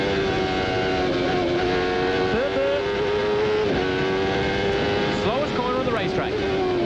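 A 1994 IndyCar race car at Road America roars nearby as the driver downshifts from sixth to second through a kink, its engine pitch dropping and rising again, with a commentator talking over it.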